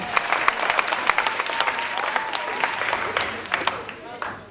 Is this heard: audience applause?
yes